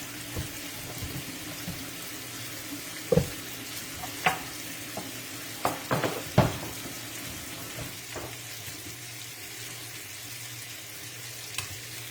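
Turkey wings browning in a pan, a steady close sizzle and frying crackle with occasional clinks and stirring knocks, no talking over it.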